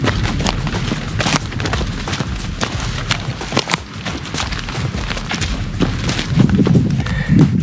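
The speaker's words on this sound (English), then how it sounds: "People are shooting like some pretty huge guns like right over the ridge" Booming thuds of large-calibre gunshots from over a wooded ridge go off irregularly, muffled and distant, several shots spread over a steady outdoor background.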